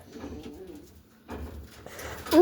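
Birmingham Roller pigeon hens cooing close by in a loft, with low, throaty coos repeating in short bursts and a brief flutter at the end.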